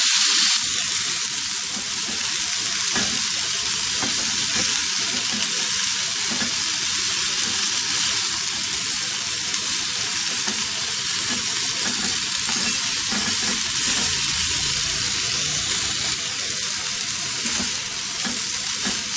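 Afghani chicken tikka boti pieces frying steadily in a hot pan, a dense continuous sizzle with faint stirring scrapes, close and loud throughout with no talking.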